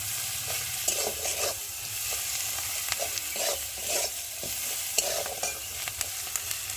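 Steady sizzling of garlic and chopped green chillies frying in oil in a pan, with intermittent stirring scrapes and clinks over a constant close hiss, no voices.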